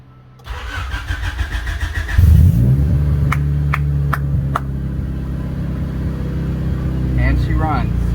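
A 1990 Honda CRX engine cranks and catches, then settles into a steady idle with a few clicks and a slight rev near the end.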